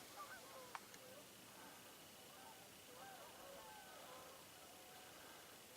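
Faint honking of geese arriving at an evening night roost at a distance, scattered calls over a steady outdoor hiss.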